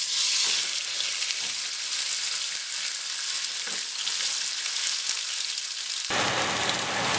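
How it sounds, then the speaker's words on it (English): Marlin fillet sears in oil smoking hot in a pan, giving a loud, continuous hissing sizzle throughout with no talking; the sizzle thickens and broadens near the end. "we're gonna let it smoke a little bit. Just drop the fish"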